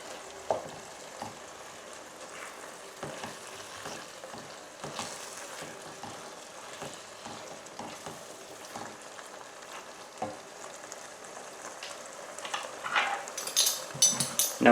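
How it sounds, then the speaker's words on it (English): A wooden spoon works through a ragu thickened with flour and stock in a pan, giving a steady soft sizzle with scraping and stirring textures that grow busier toward the end. "I've now just added the flour and the stock. Just brought it up to the bowl and just giving it a good mix in."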